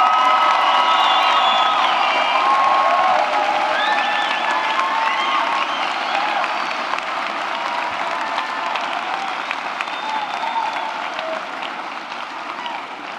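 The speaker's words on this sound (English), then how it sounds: "Please give one more round of applause to the class of 2014." Loud crowd applause with cheering and whoops at a college commencement ceremony, sustained clapping that gradually fades over time.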